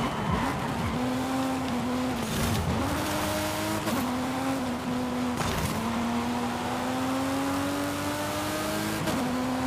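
Forza Horizon 5 race car engine droning steadily through gear changes with rising revs, a continuous loud game engine note broken by brief shifts and faint tire noise.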